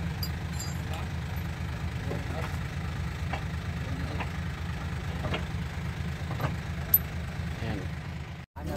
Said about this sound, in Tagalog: Tingnan natin ang kanyang makina. Makinis ang makina mga boss.